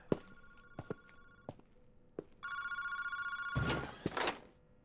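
A telephone in a park phone booth in the video game Paranormasight, a bell ring that repeats in short bursts among sharp clicks and thuds, fairly faint and close, with no speech.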